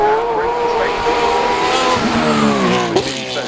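A period GT3 race car brakes hard into a corner at the Goodwood Motor Circuit, its engine note dropping through loud downshifts with a brief tyre squeal, close and intense, with a commentator's voice running over it.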